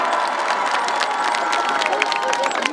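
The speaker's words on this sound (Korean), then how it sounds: "보통 이럴 때는 박수가 나와야 됩니다" An audience at the Hoeyaje festival concert in Ungsang, Yangsan, South Korea, claps and cheers continuously, a dense crowd roar with whoops rising over it.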